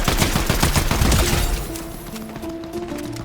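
Rapid bursts of gunfire from a shooter video game with building, several weapons firing in dense volleys that are loud at first and then thin out into a quieter, more distant background.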